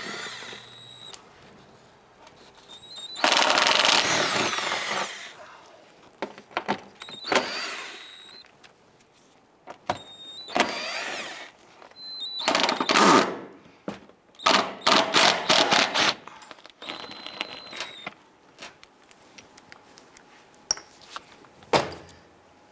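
Power tool whirring in repeated short bursts while 8mm screws are backed out of a plastic wheel well liner on a 2002-2008 Dodge Ram 1500, close and fairly loud with pauses and small clatters between bursts.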